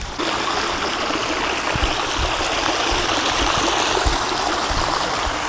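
The Mukuvisi River in Harare's Mukuvisi Woodlands flows steadily, a continuous close rush of water with occasional gurgles and no voices.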